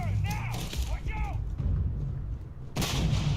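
A grenade explodes in the video game Starfield: broadband booming bursts at the start and again near the end, with low rumble throughout and whistling game effects in between, loud and close.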